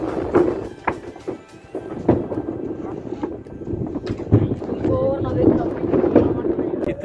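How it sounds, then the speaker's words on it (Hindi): Strong cool wind at a river crossing where goods are unloaded from a raft, gusting and buffeting the microphone continuously, with voices talking over it. "इतनी ज़्यादा हवा चल रही है कि सुकून आ रहा है, ठंडी हवा चल रही है"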